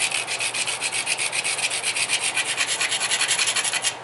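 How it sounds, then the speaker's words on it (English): Rapid, even back-and-forth rasping of a blank's base being ground, a dense rhythmic scraping at about eight strokes per second, loud and close with no voices. "maybe for good measure we'll give it a grind."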